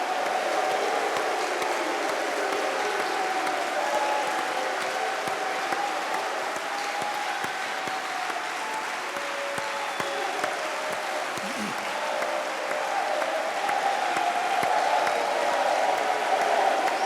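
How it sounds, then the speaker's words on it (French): A crowd at a religious gathering applauds to acclaim the Lord Jesus Christ, a dense, sustained wash of clapping that continues steadily without a break, fairly loud and enveloping. "On acclame le Seigneur Jésus-Christ."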